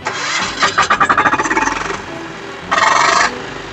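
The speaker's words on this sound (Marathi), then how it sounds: "आपले डिझेल इंजिन चालू करायला सुद्धा सोपं आहे" A 12 HP Kama diesel power weeder engine cranks by self-start and fires with rapid chugging pulses, settles briefly, then revs loudly for a moment; close and loud.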